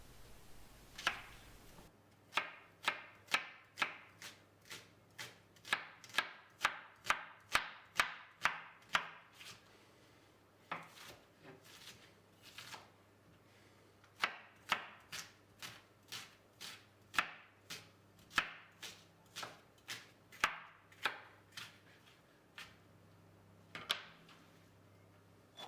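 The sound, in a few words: knife finely slicing fresh white onions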